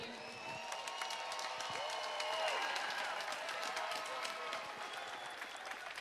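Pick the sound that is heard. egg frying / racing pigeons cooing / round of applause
round of applause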